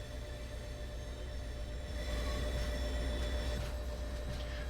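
Steady low rumble of an American train running in a train driving video game, with rail hum and a faint high tonal whine, swelling slightly louder about halfway through; no one talks.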